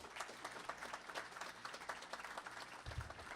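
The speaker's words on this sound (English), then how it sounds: "Let's welcome him with a round of applause." Audience applause at a community college fall convocation, a fairly faint, even patter of clapping from a crowd, with a brief low thump near the end.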